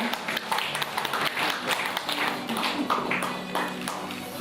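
Steady applause from a seated audience at an award ceremony for contributions to domestic curling, a dense, continuous patter of many hands at moderate distance with no clear speech.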